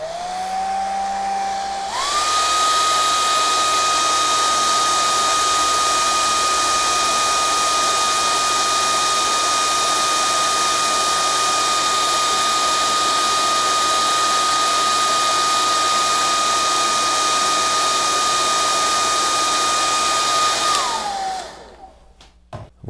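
A hair dryer blows on freshly applied acrylic paint, switching on with a rising whine, then running as a loud, steady roar for about twenty seconds before winding down and cutting off.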